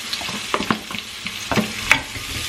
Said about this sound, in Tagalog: dito ko din i-sauté yung garlic tapos daming onion, no?